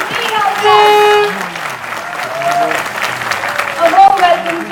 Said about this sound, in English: A big round of applause as we welcome them